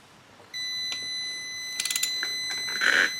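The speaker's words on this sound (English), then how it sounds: "this beeper in my continuity should stop." A continuity tester beeps while the points on a Honda TL 125 are adjusted, a steady high electronic tone holding for several seconds, quiet and close, with small clicks of handling and no speech.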